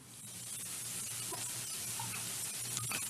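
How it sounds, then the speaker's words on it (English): Boiled potatoes sautéing in a pan before mushroom is added, a soft steady frying hiss throughout with faint occasional stirring taps, quiet and continuous. "Saute it for about 2 minutes."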